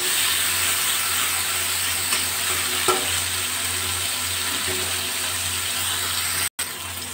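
Bitter gourd frying over a high gas flame, a steady close sizzle running throughout, with faint scrapes of stirring and a brief dropout near the end.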